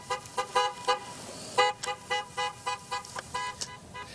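Car horns honk again and again in a homecoming car parade in Le Mars, with short, evenly spaced blasts that sound fairly close and carry on with no talking.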